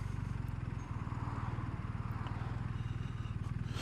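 A twin-cylinder boxer-engine motorcycle rides out into North Wales, its low, even engine pulse throbbing steadily beneath wind rush, fairly quiet and uninterrupted.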